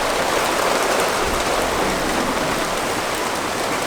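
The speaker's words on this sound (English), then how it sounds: "Yep, it's raining." Heavy rain pours steadily outside an open garage door, driven sideways in a dense, loud, continuous wash of noise with no break.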